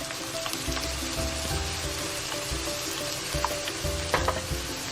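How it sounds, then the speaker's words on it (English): Tomato sauce going into a hot pan while making pink sauce pasta with chicken and vegetables, with a steady loud sizzle and frying crackle plus faint stirring scrapes throughout. "now we're gonna add our tomato sauce"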